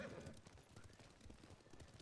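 Horses' hooves clip-clopping in the video game Ghost of Tsushima, a quick, faint, irregular patter of hoofbeats over a short stretch.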